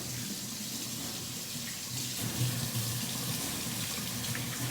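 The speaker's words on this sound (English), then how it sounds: "Since I'm rinsing it out, I'm taking all this stuff out." Tap water runs steadily into a sink while a Dungeness crab is rinsed under it, a continuous close splashing rush with slight surges as the crab shifts in the stream, no voices.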